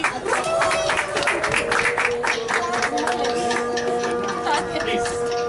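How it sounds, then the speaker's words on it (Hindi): An audience at a Bible school graduation ceremony claps steadily, sharp close hand claps over a continuous backdrop of crowd applause, with a musical tone sustained underneath. "जोरदार तालियां बजाएंगे भाई जी"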